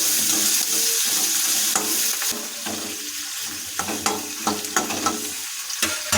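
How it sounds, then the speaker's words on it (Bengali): Chopped spring onions sizzle and fry in a kadai for a Bengali fish curry, with steady hissing and repeated scraping stir strokes throughout; a voice briefly speaks. "সমস্ত পেঁয়াজ কলিগুলো যোগ করে দিয়ে এটাকে আমরা নিয়ে ফ্রাই করে ভালোভাবে নাড়াচাড়া করে দেবো।"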